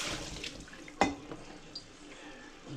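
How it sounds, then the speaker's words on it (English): Cold tap water briefly splashes while a bowl is rinsed in a kitchen sink, faint and close, with a short sharp splash standing out against quiet background. "rinse our bowl real quick."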